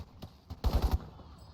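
A quick burst of automatic gunfire in the shooter Crysis, a tight cluster of four or five punchy shots after a couple of isolated thuds, fairly quiet and heard on its own.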